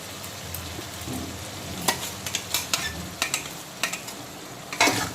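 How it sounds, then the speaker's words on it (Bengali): A paste of ginger, garlic, cumin and turmeric fries in oil in a pan, with a steady sizzle broken by a string of sharp scraping stirs. "এই পুরো মশলাটাকে ভালো করে কষিয়ে একেবারে ভাজা ভাজা করে নিতে হবে"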